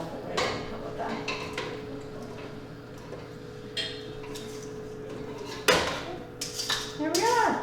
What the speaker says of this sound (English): you can set the pot down right here. And then you can take this and we'll dump it right in